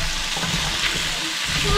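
Potato and carrot pieces frying in a pan, giving a steady close sizzling hiss with soft stirring scrapes and no talking.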